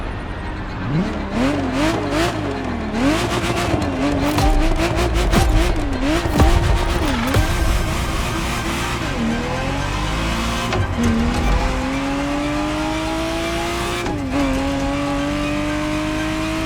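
A Ferrari Testarossa races in The Crew Motorfest, its engine loud and close with steady revving that climbs through gear changes, brief tire squeals and skids mixed in, and no talk.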